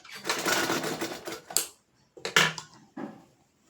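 A sewing machine runs in a short clattering burst while stitching a half-inch folded sleeve hem, then gives a few brief, separate mechanical clicks and knocks; close by and without speech.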